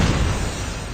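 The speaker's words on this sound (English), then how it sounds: "That's a grenade." A grenade explodes in COD Mobile, a loud, dense, close blast filling the whole second with roaring noise.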